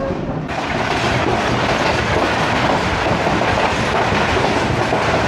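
Old Tezgam 8DN express with AC sleeper coaches running from Rawalpindi toward Lahore Junction: a steady, close, loud rolling rumble with continuous clickety-clack of wheels on rail joints, and no voices.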